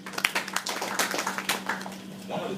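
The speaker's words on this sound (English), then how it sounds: "So I think we need to clap for him." Audience at a JCI Nigeria national convention claps for a speaker, a modest, steady patter of applause in a hall over a low electrical hum, fading toward the end.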